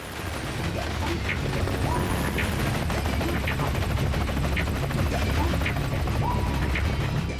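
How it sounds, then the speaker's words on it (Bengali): A cartoon helicopter makes a loud, repetitive chopping clatter with mechanical rattles that keeps up a constant rhythm throughout. "এই হেলিকপ্টার নিয়ে ট্রেনে কেন ল্যান্ড করছে?"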